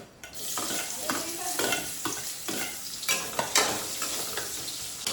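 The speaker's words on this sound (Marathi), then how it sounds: "आता आपलं कांदो भाजलो खोबरा टाकून घेतोय." Onion and grated coconut roasting in a pan, giving a steady close sizzle with repeated scraping stirs throughout, no voices.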